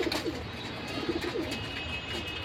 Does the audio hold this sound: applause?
no